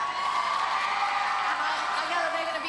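A large green-clad studio crowd at a 1998 UK Gladiators heat cheers and whoops, a steady, dense roar of shouting voices with high whoops riding on top throughout.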